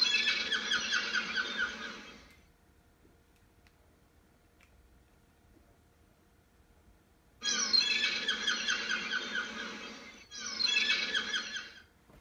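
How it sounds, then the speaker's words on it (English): Harsh, rapid squawking seagull calls come in three bursts separated by a quiet pause, loud and close. "A seagull is a type of bird, and that's the sound it makes."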